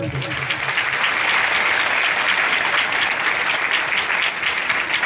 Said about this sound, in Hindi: इस सभा के लिए आप लोग जोरदार ताली बजाएं